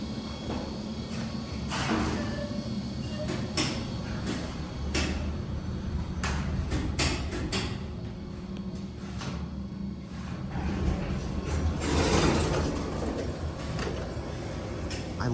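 A Southern traction elevator's motor and machinery run steadily in a machine room, a continuous low hum and rumble broken by a series of sharp relay clicks and clacks, some clustered close together.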